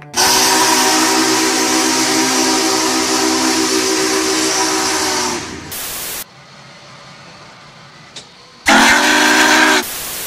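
The steam whistle of Union Pacific 844 steam locomotive sounds up close: a long, loud, chord-like blast held for over five seconds, a brief quiet, then a second shorter blast.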